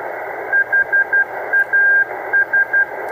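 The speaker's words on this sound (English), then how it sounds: "we're actually getting a better signal out of the loop" HF radio signal received on a delta loop antenna: a steady band of hiss and noise with short, evenly paced tonal beeps, like Morse code, sounding clearly over it.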